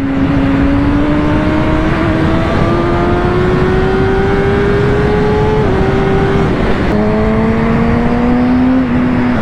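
A 2020 Kawasaki ZX6R 636 sport bike in motion, its engine note climbing steadily through the gears with an audible airbox intake roar, loud and close, over dense wind and road noise throughout.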